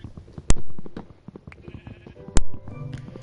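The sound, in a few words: sheep bleating in a survival video game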